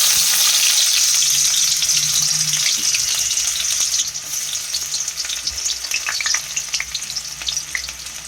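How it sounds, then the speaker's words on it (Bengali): Chopped onion hits hot oil in a pan for an egg curry, setting off a loud, close sizzle that shifts and settles midway into a softer crackling fry with light stirring, no voices. "তেল অ্যাড করা হচ্ছে, পেঁয়াজ কুচি দেওয়া হচ্ছে,"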